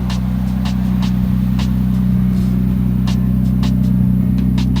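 An Infiniti Q45 driving under its own power after sitting idle for seven years, a steady low engine drone with faint intermittent clicks and road noise throughout, loud and close.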